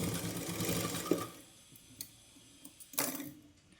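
A sewing machine runs an edge stitch along a sleeve in a short buzzing burst, then falls quiet, leaving a few light mechanical clicks and ticks nearby.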